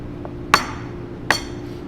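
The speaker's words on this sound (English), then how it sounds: "So we'll go ahead and crack our eggs." Two sharp cracks of eggs tapped against a flat kitchen surface while an omelet is prepared, spaced under a second apart, close and crisp over a faint steady background hum.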